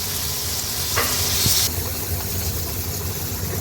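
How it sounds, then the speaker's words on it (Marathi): Steady hiss and sizzle of kaleti fish, Agri-Koli style, frying in oil on a flat pan, with a brief brighter spit of oil and a soft clink partway through. "आता ही सर्व कालेटी मी अशीच पलटून घेते आणि दुसरी बाजू पण आपण आणखीन दोन मिनटासाठी अशीच फ्राय करून घेणार आहोत"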